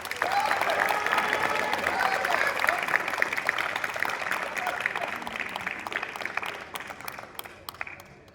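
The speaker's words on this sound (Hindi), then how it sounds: "एक जोरदार करताली हो जाओ।" An audience at a Hindi poetry recital bursts into loud, sustained applause that tapers toward the end, with crowd murmur mixed in.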